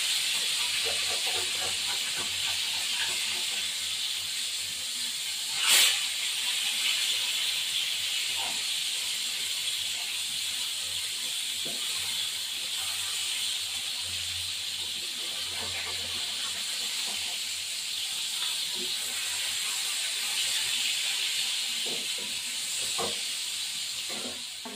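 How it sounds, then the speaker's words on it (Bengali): Steady broadband sizzle of fish frying in hot oil runs throughout, with occasional soft pops and a brief clatter partway through. "এই পিঠটা ভাজা হয়ে গেছে, এই পিঠটা ভাজা হবে।"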